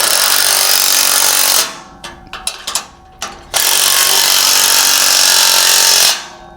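A 3/4 inch wrench and socket tighten a bolt on a trailer coupler: a loud sustained rattling burst, then a cluster of sharp ratchet clicks and clanks, then another long buzzing run.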